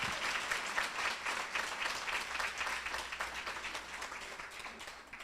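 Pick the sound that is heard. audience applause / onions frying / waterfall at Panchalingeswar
audience applause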